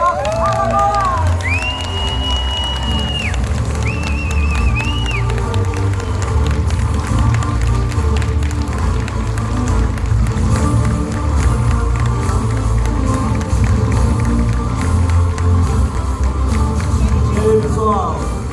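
A large crowd greets a doctor taking the stage with loud, sustained clapping and cheering, a continuous roar with whistles and shouts early on, never dropping off.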